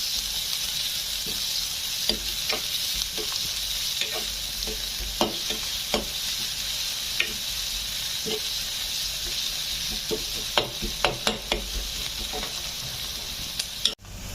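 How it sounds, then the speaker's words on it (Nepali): Chopped onions fry in oil previously used for momos, giving a steady, close hiss and sizzle throughout, with occasional pops and crackles and the scrape of stirring. "यो जुन कटिङ गरेको प्याज थियो काटेको प्याज यसलाई म फ्राई गर्न गइरहेको छु"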